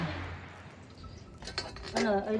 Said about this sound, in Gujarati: આવ્યો છે વાસણ ધોવા માટે